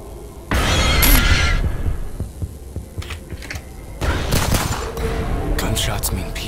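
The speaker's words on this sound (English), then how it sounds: "Gunshots mean people." Gunshots in the video game Mirror Forge come as bursts of loud, sharp gunfire. A cluster of shots opens the clip, scattered pops follow, then another dense volley, over a low game ambience.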